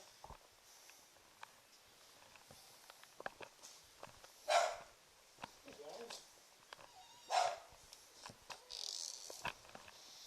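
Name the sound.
dogs barking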